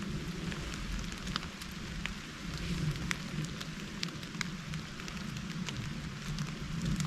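Rain falling steadily with a constant hiss and scattered louder drop ticks, no voices.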